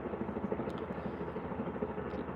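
A helicopter flying overhead above a shooting scene in Salt Lake City, a steady low rotor drone at moderate distance with no talk over it.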